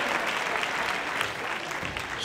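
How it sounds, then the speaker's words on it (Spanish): A studio audience on a Spanish comedy talk show bursts into loud, dense applause that holds steady throughout, with no voices standing out above the clapping. "Fuerte aplauso para el calvo del programa,"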